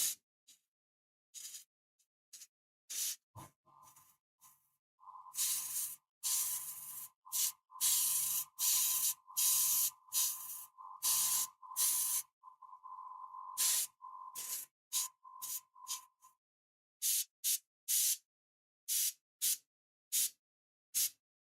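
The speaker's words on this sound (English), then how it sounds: "As soon as I'm gonna apply some clear varnish on it" Clear varnish sprayed from an aerosol can onto a painted anime figure of Suguru Geto in short hissing bursts, some long, others quick, separated by silences, close and loud.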